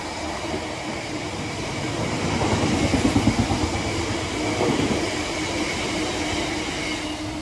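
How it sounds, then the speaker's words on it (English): A freight train rolls through a station, a steady broadband rumble with rhythmic wheel clatter swelling in the middle and continuing throughout, fairly close, with no voices. "There's another freight train."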